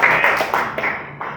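A church congregation claps through a Pentecostal family service, a dense close wash of hands filling the space in steady bursts.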